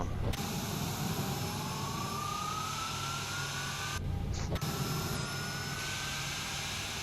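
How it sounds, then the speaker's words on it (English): A Boeing 737-800 jet engine spooling up on start, its whine slowly rising in pitch over a loud steady roar, with brief cut-outs in the sound. "Engine number 2 is stable, starting engine number 1."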